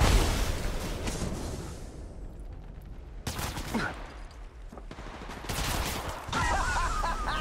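Gunfire in the mobile game Apex Legends Mobile: bursts of rapid automatic shots in several loud volleys separated by brief lulls, with quieter background game sound between them.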